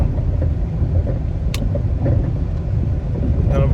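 Interior of a car driving toward the airport, with a continuous loud low road rumble and engine drone throughout and faint brief clicks and rattles on top.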